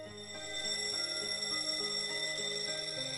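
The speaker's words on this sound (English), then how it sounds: "The bell rang and snapped me out of my short-term stupor." A school bell in the video game Z.A.T.O. rings with sustained metallic tones and steady overtones, fairly faint but continuous throughout.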